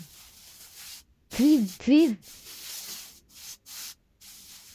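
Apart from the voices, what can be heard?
spraying mist on mushroom farm bags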